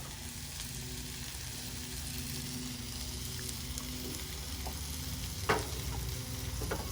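Cheesesteak meat sizzles steadily on a Blackstone griddle, frying close and constant. A spatula lands a light scrape and clack partway through as the meat is tossed.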